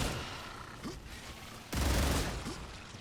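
A frag grenade goes off in the sci-fi shooter StarRupture, a loud burst at the midpoint following steady gunfire and mechanical clatter, with the blast's rumble trailing off into continued shooting.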